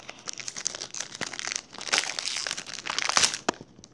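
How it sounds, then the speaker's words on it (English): A Pokémon card booster pack wrapper being cut and pulled open, close crinkling and crackling foil with sharp tearing bursts that swell and fade over a few seconds, no talking. "Let's open up this break pack right here. Let me cut this open."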